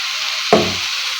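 Vegetables hit hot oil and start frying for hotel-style sambar, one sharp loud sizzle bursting up and then settling into a steady fading hiss over a constant background hum.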